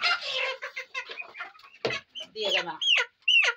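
Baladi crossbred hens, held and moved by hand, give a few close, short clucks and squawks, one sharp rising call near the end, while someone talks over them.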